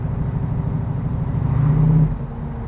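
Large-displacement Ford engine revving hard under throttle, a close, rising growl that peaks and then drops off sharply as the driver lifts, no one speaking.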